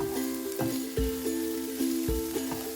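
Coriander powder fries in a hot pan for a home-style curry while a spoon stirs it. A soft sizzle is punctuated by about five scraping stir strokes, all beneath steady background music.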